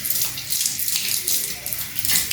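Water poured over the feet during ablution, a continuous close splashing and running flow like a tap into a basin, steady and fairly loud with no voice over it.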